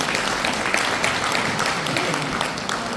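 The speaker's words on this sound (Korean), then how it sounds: "큰 박수 부탁드리겠습니다." An audience in a lecture hall gives sustained applause after a talk by a lawyer at a Daegu-Gyeongbuk regional association humanities lecture, a dense, even wash of clapping with a few sharper individual claps standing out.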